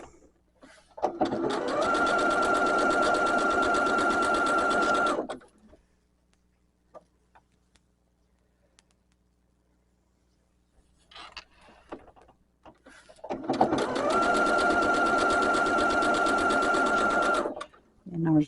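Sewing machine chain piecing quilt fabric for a Christmas hexagon quilt, running in two steady, loud bursts of rapid stitching separated by a quiet pause, close by with no talk over it.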